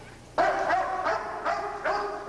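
Several police dogs bark in a school during a drug raid, giving four loud, close, clearly separated barks with no talking.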